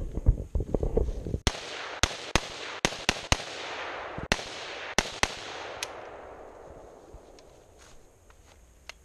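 An AK-47 rifle fed from an RKS 75-round drum magazine fires a string of single sharp shots at uneven, fairly quick intervals outdoors, each crack followed by a lingering echo that fades out at the end.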